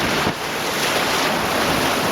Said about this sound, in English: the flumes are actually flowing with quite a significant strength